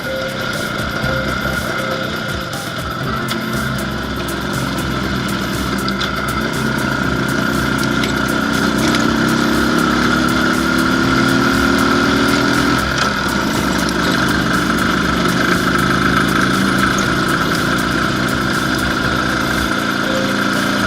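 An IZh Planeta 5 motorcycle rides along a forest road, its engine droning loud and close with steady throb and rising pitch sweeps as it accelerates.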